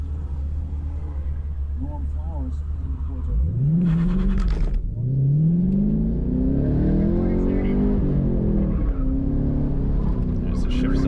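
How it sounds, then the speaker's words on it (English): A Chevrolet Camaro SS 1LE's engine pulls hard through a turn on an SCCA autocross course, rising from a low rumble into a loud, climbing roar as the throttle opens, with a voice talking over parts of the run. "getting on the accelerator halfway through the turn, which you can hear pretty obviously in this run happens"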